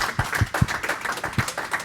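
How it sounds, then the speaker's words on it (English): Applause from a conference audience after a data-quality session presentation, a short burst of close, irregular hand claps with no voices. "Round of applause."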